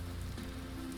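Steady rain falls in the video game Vintage Story, a soft continuous patter over a low hum, even and unbroken for a moment.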